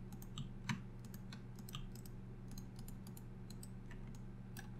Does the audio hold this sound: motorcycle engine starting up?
no